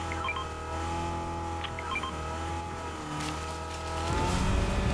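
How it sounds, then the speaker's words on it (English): An engine hum rises as a car approaches from behind in Fortnite, growing louder toward the end, with game-like motor drone and a faint tire squeal. "I hear a car. Coming right behind us."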